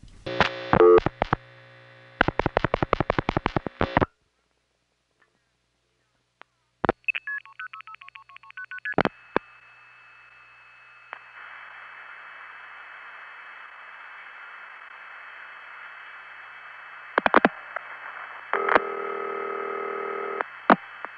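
Pulses from a 1976 Regina crossbar tandem exchange dial into a step-by-step office in the same building as quick clicking bursts, followed by tones and a long steady hum on the line.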